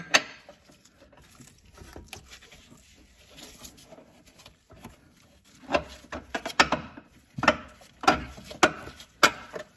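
A ratchet wrench clicks while loosening a 14 mm bolt on the lower control arm of an Acura NSX front suspension; sparse clicks early on, then a closer run of sharp ratcheting bursts and metallic knocks.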